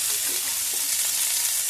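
Eggplant pieces sizzle and fry in hot oil with black cumin seeds and a green chili, a steady close hiss with faint stirring throughout.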